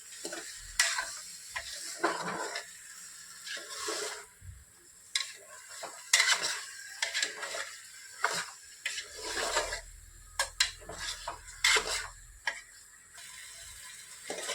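Potatoes stirred and mixed in a pot for a farali kheer dish, with irregular clattering scrapes and taps of a spoon, quiet and close, no speech.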